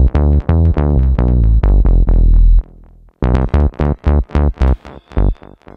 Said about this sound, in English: I've got a Diva preset. It's called flat bass